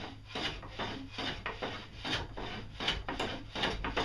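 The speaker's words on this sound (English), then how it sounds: "you can take a big hand plane" Steady rasping strokes of a large hand plane shaving a wooden edge square, repeated in a quick rhythm, close and fairly loud with no talking.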